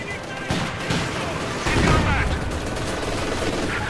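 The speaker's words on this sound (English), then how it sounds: "Light machine guns of all kinds joining in the fight as well." Light machine guns and grenades in a Company of Heroes 2 battle, steady rattling gunfire with a heavier burst partway through, loud and continuous.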